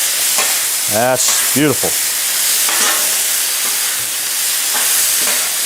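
Pepper steak and vegetables fry loudly on a Blackstone griddle set on high, giving a continuous close hiss and crackle while someone speaks briefly over it.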